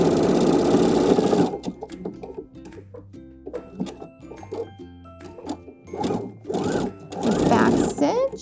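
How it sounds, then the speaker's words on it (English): Sewing machine stitching elastic onto the waistband of high-waisted panties, a loud steady run first, then short stop-start bursts of stitching with pauses between. "And now I can go ahead and finish sewing it down."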